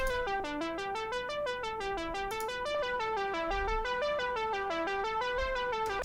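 A synthwave arpeggio runs through a delay effect without bandpass filtering, bright repeating synth notes stepping up and down in an even rhythm with echoing tails, full and sustained.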